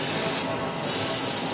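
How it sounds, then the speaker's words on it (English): Close, steady airbrush hiss of paint spraying onto the back of a Panther tank scale model, a continuous broadband stream that briefly thins in the middle before resuming. "I'm just gonna spray from this direction up where the lighting would be hitting it."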